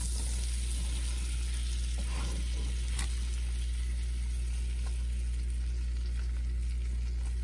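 Flour being stirred into about three tablespoons of melted butter in a pan over medium heat for an elk round roast, a steady soft sizzle with faint scraping, continuous and close, with no talking.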